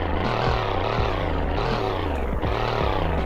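A Roblox Greenville car with all-wheel drive and five seats runs its engine in a steady, loud, droning hum with a buzzing, propeller-like tone, unbroken and without talk.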